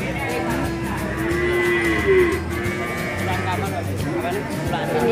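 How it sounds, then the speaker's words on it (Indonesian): Female calves mooing at a cattle market where young stock is sold, low drawn-out bovine calls repeating amid steady crowd noise and nearby voices talking. "Ini pedetan-pedetan betina."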